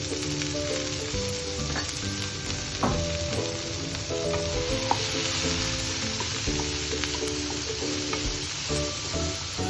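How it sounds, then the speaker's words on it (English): Vegetables sautéing in a pan with salt and red chili, a loud, dense, continuous sizzle with scattered stirring clinks and scrapes close to the pan, no talking. "So I'm sauteing the vegetables separately so that I can add the pasta and the sauteed vegetables in the sauce later."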